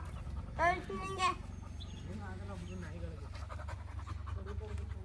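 A dog pants nearby in quick, rhythmic breaths during Deepavali, with a couple of brief vocal sounds near the start, all over a low, constant background rumble.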